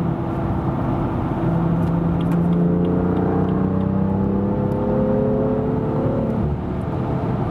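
BMW M2 Coupé with a 370 hp engine accelerating hard on the Autobahn, a loud, continuous engine note climbing steadily in pitch through the gears over constant road and wind roar, heard from inside the car.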